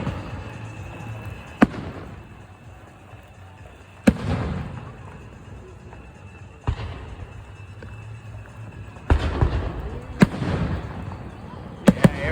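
Fireworks at a 4th of July show in Harrison, Idaho, with loud booming bursts every few seconds and crackling tails after each blast, heard from a crowd with faint background voices.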